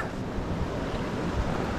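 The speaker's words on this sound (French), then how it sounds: "il y a beaucoup de vent" Strong wind buffets the microphone in a steady, roaring rush outdoors during a rainy gold-prospecting day in France, loud and continuous throughout with no voices.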